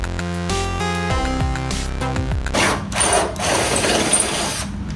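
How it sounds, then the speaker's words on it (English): Power drill boring through a car hood on a Honda Civic EK for a hood pin latch, a whining motor with stepped pitch changes, then grinding and rasping as the bit cuts through sheet metal, close and loud. "my drill and drill through where I've marked it"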